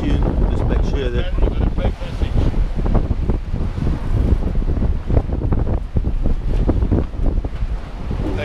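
Strong wind of about 30 knots roars across the microphone of a sailing boat bound for Mount Vema from Cape Town, with waves and surf washing continuously around the hull, loud and close throughout.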